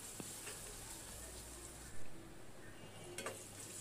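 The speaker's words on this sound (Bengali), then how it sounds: "তেল দিলাম 1 কাপ, তার মধ্যে পেঁয়াজ কুচি দিলাম 1 কাপ।" Chopped onions frying in a cup of oil for biryani beresta, a steady soft sizzle with occasional stirring clinks, close and continuous throughout.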